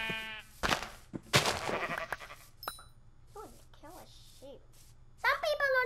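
Sheep in the Minecraft video game bleat in short wavering cries, several separate calls spaced across a few seconds alongside game clicks and dings, with a young player talking in between.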